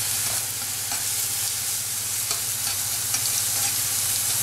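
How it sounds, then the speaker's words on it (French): Mango pieces and shallots candy in a pan over low heat, giving a soft, steady, even sizzle with faint occasional pops and no talking. "Et vous faites confire à feu doux encore quelques minutes."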